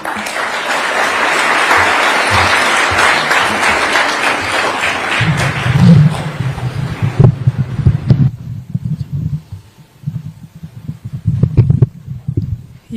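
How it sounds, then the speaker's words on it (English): Applause for the First Lady at a Mazingira Day event in Kenya, a loud sustained crowd clapping that fades after several seconds, leaving a low rumble and scattered sounds. "Another big round of applause for our First Lady"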